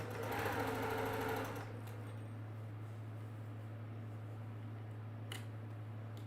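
A sewing machine runs quickly for about a second and a half, stitching Dresden quilt pieces right sides together. A low steady hum continues faintly after it stops, broken by a soft click.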